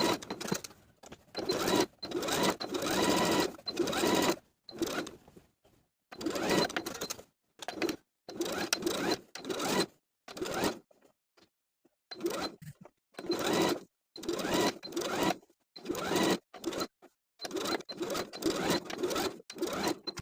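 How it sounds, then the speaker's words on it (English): A sewing machine stitches a seam allowance to the lining along the top edge of a ruffle tier dress, running in many short, steady bursts separated by brief pauses, close and clear, with no talking. "Then we'll sew our seam allowance to the lining all the way around the top edge."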